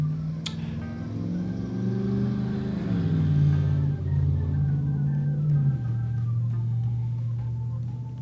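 Large trucks roll past on a main Texas highway just outside a room, a steady low engine rumble and drone that swells and shifts pitch as vehicles pass, continuous throughout with no talking.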